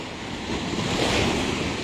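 Ocean waves wash against a beachside road that is eroding, next to shattered concrete breakwaters, in a steady, close surf roar mixed with wind buffeting the microphone.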